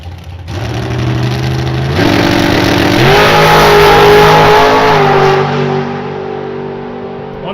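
A 450 dragster at a drag strip revs loudly with a steady, close engine roar that climbs in pitch in stepped surges before easing off toward the end.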